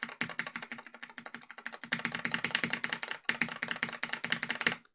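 Keys on an osu! keypad are pressed in rapid, rhythmic bursts of crisp clicks, close and fairly quiet, with a brief pause midway before the tapping resumes.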